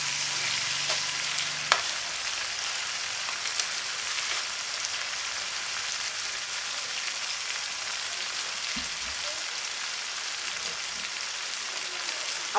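A veggie sauce with onion fries in a pan, producing a dense, even hiss of sizzling like steady rain. A few faint scrapes and clicks from stirring sit close under it, with no talking.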